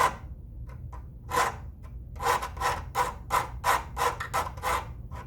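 A hand file rasps across a workpiece on the down stroke, with a few scattered light strokes followed by a steady run of about ten close, loud, evenly spaced scraping strokes and no talk.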